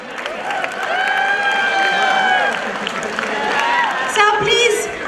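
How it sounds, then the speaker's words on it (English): An audience at a college event applauds as the principal comes to the stage, dense clapping and crowd noise spreading through the hall, mixed with voices and tonal sounds that rise and fade over a few seconds. "Give a huge round of applause."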